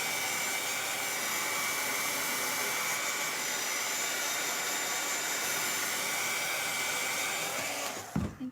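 A hair dryer blows steadily and loudly to dry paint on a handmade reindeer sled craft, a constant broadband rush that cuts off near the end.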